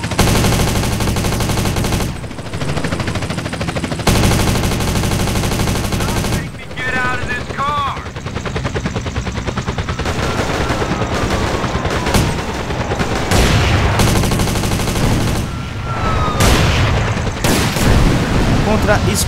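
Automatic gunfire and bursts of shots in GTA San Andreas with a Trevor rage-ability mod, dense and continuous across the clip with booms and chaotic game noise, someone talking now and then over it.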